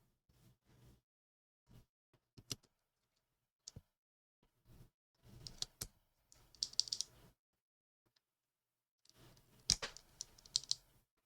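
Bursts of typing on a mechanical keyboard fitted with Ripple switches, a Sonnet board by Mode, with clustered clicky keystrokes separated by short pauses, close and clear with no talking.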